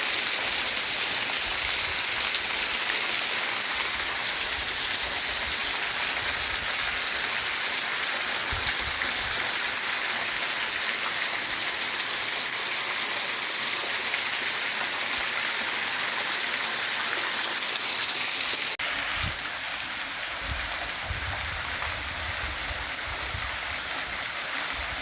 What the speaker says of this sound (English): That's gonna do it for me by the waterfall.